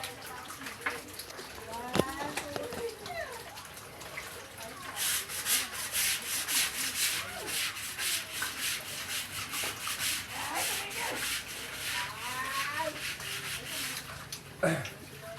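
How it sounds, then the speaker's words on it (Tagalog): A brush scrubs built-up dirt off the wet concrete floor of a catfish pond in rough, repeated strokes, close and steady, with a voice talking intermittently over the scrubbing. "Medyo kumapal na yung dumi, kaya kailangan brushing. Kailangan mag-brush."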